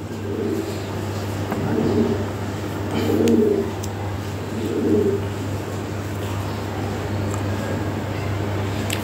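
A pair of black jumbo Lahori pigeons coos in three low, throaty bursts over a steady background hum.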